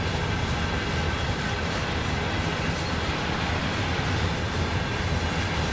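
Long mile-long freight train rolling between Cheyenne and Laramie in Train Sim World 6, a steady, loud, continuous rumble of rail cars with faint clatter throughout, no voices.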